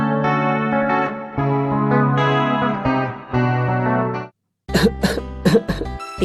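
A person coughs at a shared meal, with a few sharp, loud coughs and throat-clearing bursts near the end after a long processed, echoing tone.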